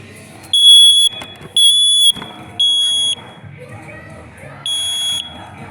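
Newly installed smoke alarm under test, sounding four loud, piercing electronic beeps in a steady repeating pattern, with people talking and household noise in between.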